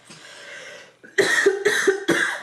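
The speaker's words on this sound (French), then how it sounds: "C'est la bougie qui me fait tousser." A run of close, harsh coughs, four or five in quick succession, after a brief breathy lead-in.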